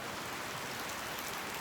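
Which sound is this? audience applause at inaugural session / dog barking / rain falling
rain falling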